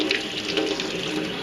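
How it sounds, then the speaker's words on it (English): Cold water runs steadily from a tap over a heat-formed PVC longbow being cooled, a close, continuous splashing hiss with no speech. "Now we're going to cool it under cold running water."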